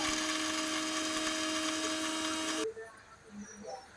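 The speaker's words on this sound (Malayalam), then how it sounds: "ഇതിലേക്ക് കുറച്ച് ഓറിയോ നമ്മൾ ആദ്യം അതിൽ ക്രീം മാറ്റിയിട്ടൊന്ന് അടിച്ച് എടുക്കണം" A mixer grinder whirs loudly and steadily as it grinds Oreo biscuits with the cream removed, running for about two and a half seconds before cutting off abruptly into quiet room sound.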